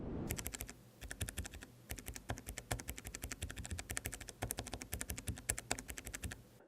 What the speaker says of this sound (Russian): Слушаем клавиатуру.